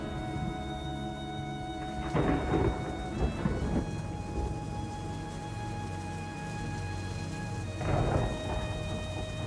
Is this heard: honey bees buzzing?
no